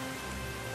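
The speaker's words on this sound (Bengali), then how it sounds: "আরে রাম, তুই এই বৃষ্টির মধ্যে?" Steady rain falls in a dense, even hiss of drops on surfaces, continuous and moderately close, with no voices during the brief stretch.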